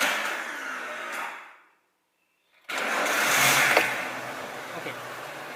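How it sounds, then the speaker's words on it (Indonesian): A light vehicle with an electronic fuel injection system cranks on its starter and catches, a steady engine noise that fades to silence for about a second before the engine fires up again and runs loudly and close. "Kunci kontak on, panel-panel hidup, kemudian kita starter."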